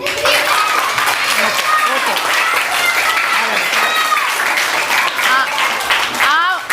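A school audience claps together in thanks to a donor, sustained dense applause throughout with a little voice mixed in and brief whoops or whistles near the end.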